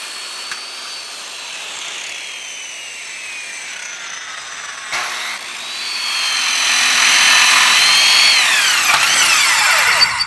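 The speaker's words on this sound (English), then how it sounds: "Before placing the pickets, I wanted to bevel the tops of the posts." A power tool bevels the tops of pine fence posts with a steady whine that swells louder and harsher midway through as it cuts into the wood, close and continuous.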